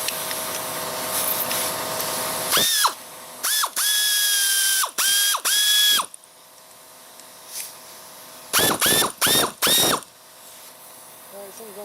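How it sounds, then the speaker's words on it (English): An air ratchet drives a bolt on a John Deere LA110 42-inch mower deck during spindle repair, firing in several loud, close bursts of rapid clicking with short pauses between them. "this thing's going on the air ratchet"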